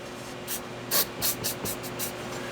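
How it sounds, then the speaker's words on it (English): Aerosol spray on a nasty bolt during a battery replacement on a 1999 Chrysler Intrepid, several short close hissing bursts in quick succession, the second one loudest. "Gonna give it some spray for what it's worth."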